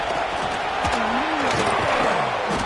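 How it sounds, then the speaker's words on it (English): Crowd at a college football stadium roaring to spur on the defense near the goal line, a dense sustained wall of cheering that stays steady and loud throughout, with a commentator's voice riding over it. "This crowd is trying to inspire this defense to make a big red zone stop."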